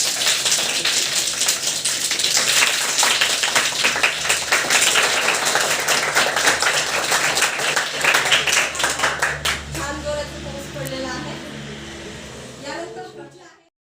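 A classroom group finger-claps to imitate rain, a dense patter of many quick claps that stays steady, then thins out, softens and stops, with voices mixed in.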